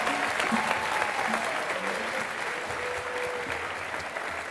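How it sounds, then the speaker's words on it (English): Steady, full applause from a gospel choir concert audience honoring a professor, a dense wash of clapping held evenly for several seconds with a few cheers and murmurs woven through. "let's give another round of applause for Professor Glasper"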